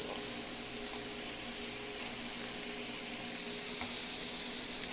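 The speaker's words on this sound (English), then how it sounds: "At this point, we're going to add some garlic and jalapeno. Stir that in." Sloppy joe meat with garlic and jalapeno cooking in a pan, heard as a dense, even sizzle lasting throughout, with no distinct stirring strokes and no one talking.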